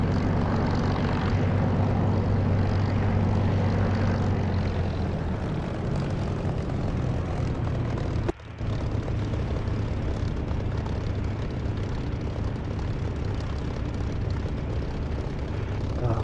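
An aircraft takes off in the DCS flight simulator game, its engine droning loud and steady throughout, with a brief dip in the middle.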